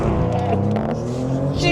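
A 2025 Maserati GranTurismo accelerating hard from a launch, its engine a loud, sustained roar filling the cabin throughout, with voices also present.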